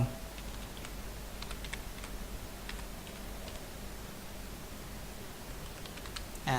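An email password is typed on a computer keyboard: quiet, irregular keystroke clicks come in short bursts over a faint background hiss.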